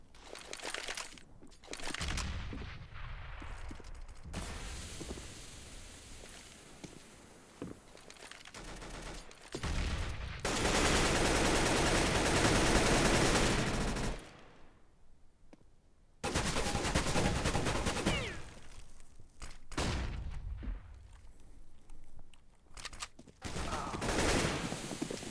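Bursts of MAC-10 submachine gunfire from a Counter-Strike match on the Inferno map, with rapid automatic volleys breaking off into short pauses and then starting again, loud and close.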